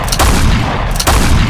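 Two deep booming shots of ship cannon fire in a video game, spaced about a second apart, loud and close over a low rumbling background.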